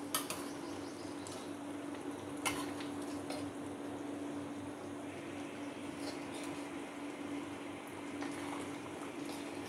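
Bhuna mutton masala cooking in a pot on a high flame, giving a steady low bubbling and simmering hiss with a constant hum and a few faint clinks, with no talking.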